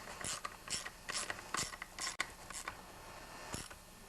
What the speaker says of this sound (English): Next, there's two 5/16 nuts, which are going to go here and here. Tighten them down evenly.